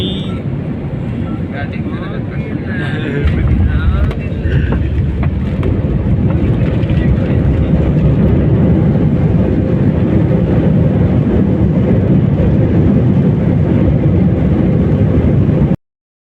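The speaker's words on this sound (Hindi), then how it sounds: "थोड़ी देर में हम अल्लामा इकबाल इंटरनेशनल एयरपोर्ट लाहौर पर उतरने वाले हैं" Inside an airliner landing at Allama Iqbal International Airport in Lahore, a loud, steady cabin roar swells after a few seconds and holds, with voices talking over it.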